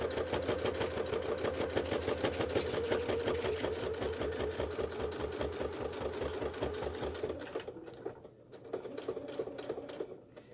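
A sewing machine stitches down quilt binding toward a corner in a long steady run of rapid, even needle strokes, close and fairly loud, then stops and gives a couple of brief spurts.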